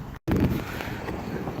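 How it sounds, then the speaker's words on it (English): Outdoor wind on a windy day during a hike near Fremont, Nebraska, a steady low rumble buffeting the microphone, fairly faint and continuous with a brief dropout near the start and no voices. "it's actually kind of windy outside today, so you're probably going to be hearing some wind in the background"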